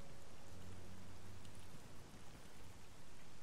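Steady rain falls in the S.T.A.L.K.E.R. GAMMA video game as a soft, continuous broadband hiss, fairly quiet and uninterrupted.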